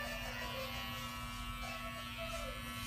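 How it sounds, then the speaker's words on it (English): Electric hair clipper buzzing steadily at close range, tipped onto its teeth while blending the sides of a man's haircut into his beard, a continuous even drone with faint background murmur. "we're going to tip your clipper kind of like on its teeth, and so you can easily blend in the beard with the sides"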